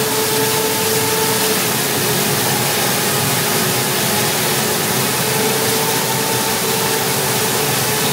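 A pico-hydro power plant turbine in a village in Jumla, Nepal, running with a steady, unbroken broadband whir and hum, constant in loudness throughout with no voices.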